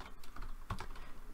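Quiet, rapid keystrokes patter on a computer keyboard while code is entered, with one slightly sharper key press midway and no one speaking.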